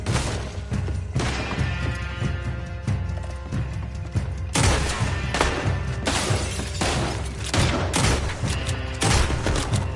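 Heavy gunfire in Red Dead Redemption 2, with loud, dense volleys of overlapping shots and crashing impacts that run almost without a break, a short lull, then a second intense burst.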